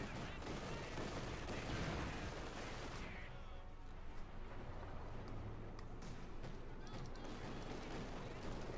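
Two mortars fire in a video game battle, their blasts buried in a constant roar of gunfire and combat noise that fills the whole stretch, with narration-level activity running throughout.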